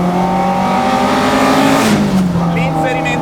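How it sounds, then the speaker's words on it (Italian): A loud, close engine note from an early-1970s Alfa Romeo Giulia GTAm cornering hard on the Balocco test track holds a steady howl, then drops in pitch as the car lifts off, with faint tire noise after. "L'inserimento in curva della GTA, anzi della GTAM in questo caso, è paranormale"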